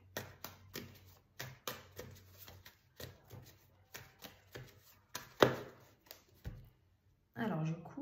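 A deck of playing cards is cut and handled during a French card reading, giving soft repeated taps and slaps, close and quiet, with a voice speaking in between.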